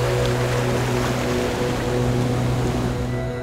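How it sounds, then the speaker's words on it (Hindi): Sea waves at Om Beach on the Konkan coast wash in as a steady, loud roar of surf, with a low, constant rumble and no breaks throughout. "इस ओम बीच पर जब आप खड़े होते हैं तो यहाँ समुद्र की लहरें सिर्फ बहती नहीं है"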